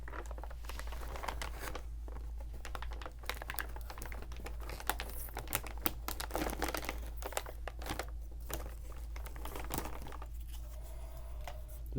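A resealable pouch of hot and spicy shrimp-flavored seaweed snacks gives close, crisp crinkles and rustles in irregular bursts over a low, quiet background hum.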